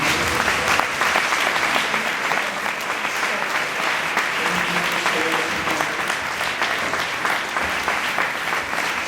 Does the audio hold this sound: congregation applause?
yes